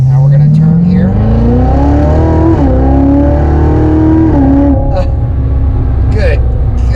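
A car engine revs and climbs in pitch while the vehicle swings through a U-turn, loud and close from inside the cabin, with someone talking over it.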